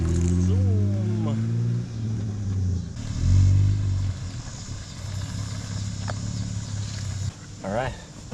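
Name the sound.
Jeep Wrangler 3.6 engine starting and revving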